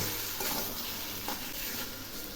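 Cottage cheese (chhana) is sautéed with spices in a pan, giving a brief, quiet, steady sizzle with soft stirring noise throughout.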